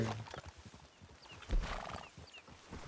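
Horse in the Red Dead Redemption II video game in a desert setting, with hooves clip-clopping in a quiet rhythm and a brief whinny, faint and alone.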